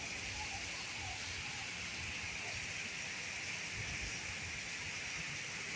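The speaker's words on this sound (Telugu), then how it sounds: "ఒంగోలులో భారీ వర్షం" Heavy rain pours steadily in Ongole town, a dense, even hiss of falling water with no pauses and no voices.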